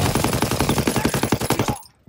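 Rapid automatic gunfire from a World War II video game map, a dense unbroken burst of about twenty evenly spaced shots that stops abruptly, close and loud.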